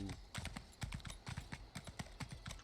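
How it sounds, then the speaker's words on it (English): Horse hooves clip-clopping while riding in the Elder Scrolls Online video game, a quick steady gallop rhythm of hard hoof beats, close and continuous. "Let's hop on the horse and go over here"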